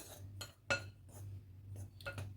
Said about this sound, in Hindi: सभी चीज़ों को चम्मच की मदद से अच्छे से मिक्स कर लेंगे।